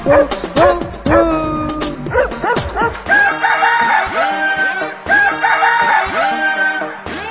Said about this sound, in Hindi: कुत्ता बोले भू भू भू